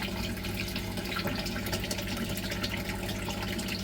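An old, dirty aquarium air sponge is squeezed in water to release beneficial bacteria, giving a steady close-up rush of sloshing and trickling liquid with faint drips, continuous for the whole stretch and without any talk.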